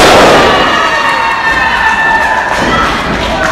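A wrestling crowd in Marion, Ohio cheers and roars loudly, a dense wash of shouting voices that swells at the start and stays sustained throughout.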